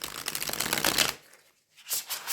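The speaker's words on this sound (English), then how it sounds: "I'm actually going to shuffle it, because if I shuffle it, then I kind of feel that it's it's in rotation." A tarot card deck riffled and shuffled by hand, a dense run of crisp close card flutters for about a second, then quiet before a couple of softer shuffling bursts.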